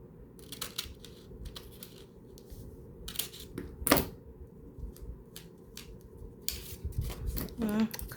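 Scissors snipping through crinkly Amazon packaging paper for a journal cover: irregular crisp cuts and rustles up close, with quiet talk in between.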